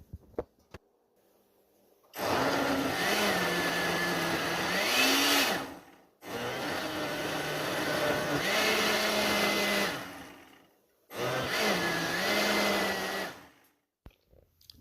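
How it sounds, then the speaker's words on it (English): A kitchen blender blends beans in three loud bursts of motor whir, each several seconds long with pitch shifting as the load changes, separated by short pauses. "Let's blend."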